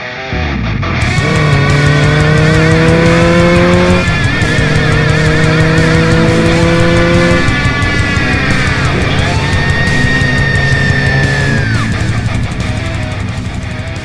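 A motorcycle engine revs hard and close, its pitch climbing and dropping in several sustained surges over about fourteen seconds, loud and alone without talk.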